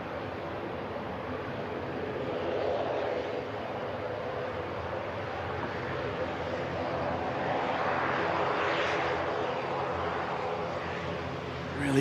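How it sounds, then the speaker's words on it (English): ATR turboprop airliner at Manchester Airport at night, a steady broad roar of engine and airflow that swells gently toward the end, heard at a distance with no talk over it. "The ATR has landed."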